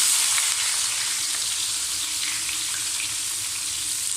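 Sliced onions sizzle steadily in about a cup of hot oil in a pan while cooking for bhindi chicken, a continuous bright frying hiss close up with no talk.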